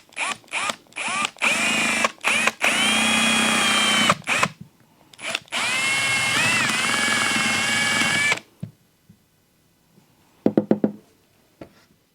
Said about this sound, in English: I wonder if I could try and drill a hole in the bottom here and light it from there.